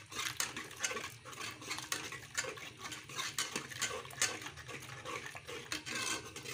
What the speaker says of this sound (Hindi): ये थोड़ा सा भूनना है टमाटर और लहसुन प्याज को